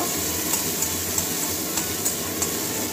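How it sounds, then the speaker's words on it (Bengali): Green chillies and onion frying in a pan, a steady loud sizzle with a few sharp ticks of stirring spaced evenly, close up and with no voices. "এবারে কাঁচা লঙ্কা, পেঁয়াজ এটাকে ভেঙে ভাজা করে নেব"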